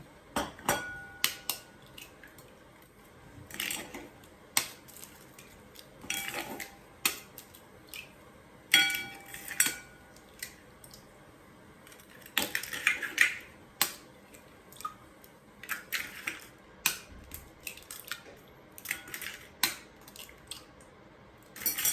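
Eggs are beaten in a bowl for a fried egg dish, giving irregular light clicks and taps of a utensil against the bowl, quiet and close, with no talking.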